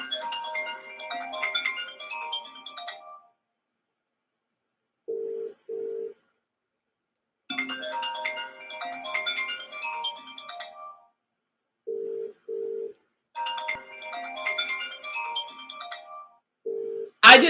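A phone rings with an incoming call in repeated bursts of a melodic ringtone, broken by short tonal beeps and pauses, fairly close and clear with no talk over it.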